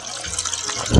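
Bubbling, gushing water from a fountain pump, steady through the second and swelling louder at the end.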